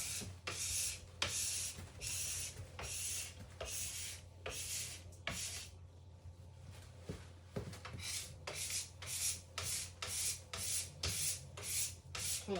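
Race ski edges being sharpened with a file in short, repeated strokes, a steady rhythm of rasping scrapes close by with a brief pause midway, over a low constant hum.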